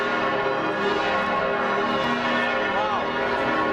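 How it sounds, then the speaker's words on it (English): Church bells ring continuously outside St. Stephen's Cathedral, with a dense, loud outdoor wash of ringing and crowd noise and no clear break in the sound. "If you can hear me, I don't think these bells ever stop."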